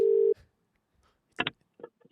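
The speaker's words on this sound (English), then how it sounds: "It's ringing." A single electronic ring tone sounds briefly at the start, followed by quiet and then a few short bursts of faint talking.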